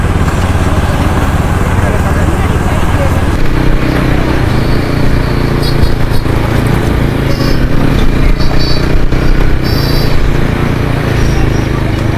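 A motorcycle engine runs steadily and loudly throughout, a deep rumbling idle with some revving and wind noise close to the listener.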